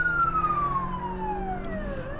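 A South African police car siren wails loud and close during a chase, its falling tone sweeping down steadily over a low vehicle rumble, with no voices.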